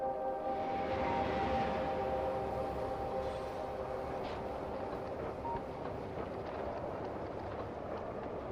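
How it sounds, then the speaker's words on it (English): A train in the Factorio video game rolls along with a steady mechanical rumble and faint tonal hum, continuous and moderately quiet throughout, with no talk over it. "Train."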